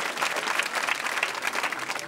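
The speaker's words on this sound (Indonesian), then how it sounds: "Tepuk tangan sekali lagi" Steady, dense audience applause in an award ceremony hall, a continuous close wash of many hands clapping that holds at an even level throughout the brief moment.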